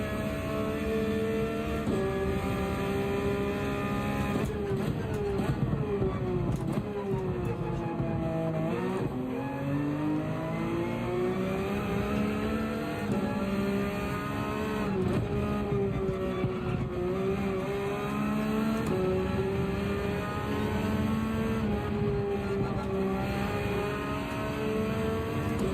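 A race car engine in Gran Turismo 7 roars continuously, climbing in pitch through repeated upshifts with brief dips between gears, loud and close throughout with steady tire and road noise underneath.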